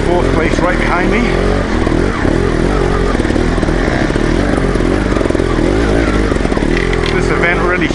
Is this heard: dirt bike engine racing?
yes